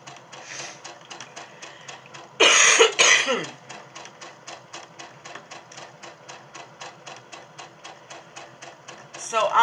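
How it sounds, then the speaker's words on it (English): A sewing machine stitches green fabric in fast, even rhythmic bursts, close and steady, broken midway by a loud cough, with the machine starting again afterward. "So I'm sewing this green fabric."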